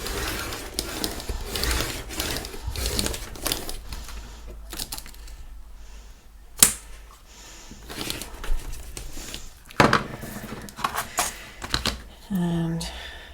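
Paper is cut with scattered crisp snips and slicing strokes while making vintage eye chart wall art, close and fairly quiet, with a couple of sharper clacks and some handling rustle.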